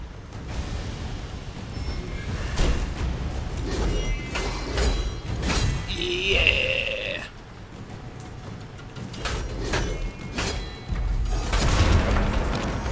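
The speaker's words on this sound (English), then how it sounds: "I destroyed another totem." A totem is destroyed in the action video game Godfall: a burst of heavy booms and shattering crashes with a brief rising magical swell midway, loud and close over a dense wash of game effects and music.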